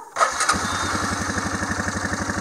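A Yamaha Bruin four-wheeler running on its reserve fuel setting cranks briefly, then catches and settles into a steady, close, rhythmic idle.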